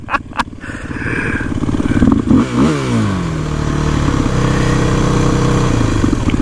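A motorcycle and a four-wheeler ATV race side by side, engines revving hard and climbing in pitch through gear changes, with brief clattering near the start.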